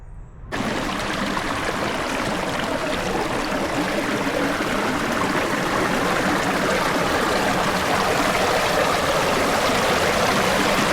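Steady, loud rush of spring-fed creek water running through a jungle-like park at Green Springs, a dense broadband flow that holds evenly throughout, close by and with no voices.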